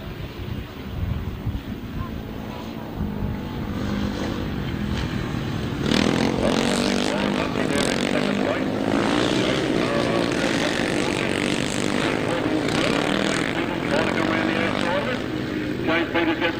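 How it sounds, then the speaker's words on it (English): A grasstrack racing motorcycle at a 600 grasstrack meeting accelerates hard out of a turn, its engine roaring over steady wind noise and crowd-level background, with a commentator talking throughout. "he squirts the throttle on out of that turn and goes up that straight"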